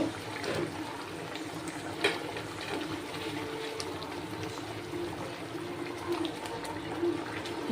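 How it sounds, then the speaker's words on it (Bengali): Katla fish curry gravy boiling in a pan, giving a steady, low, continuous bubbling and simmering with a faint hum underneath throughout. "একটু ঝোলটা একটু ভালো করে ফুটুক"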